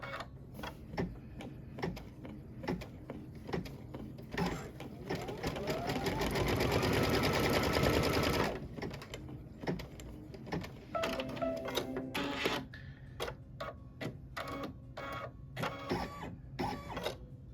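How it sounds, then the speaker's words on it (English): An embroidery sewing machine stitches the body of a rocket design in metallic thread, its needle ticking in a steady rapid rhythm that swells louder into a dense run midway, then returns to brisk clattering stitches. "now it's going to stitch the body of the rocket"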